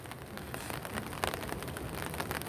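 Steady rain pours down outdoors on the Florida Gulf Coast, a dense, even hiss of drops striking surfaces close by, with no break in the patter.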